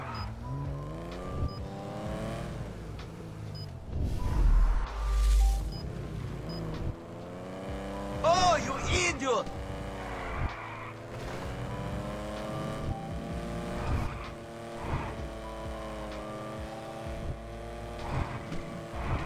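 A truck engine drones and revs continuously in GTA 5 with the chaos mod active, its pitch rising and falling as it accelerates, with a louder burst of noise midway.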